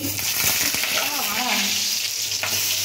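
Panch phoron seeds hit hot oil and crackle with a busy close sizzle, a few popping crackles and a stirring scrape partway through.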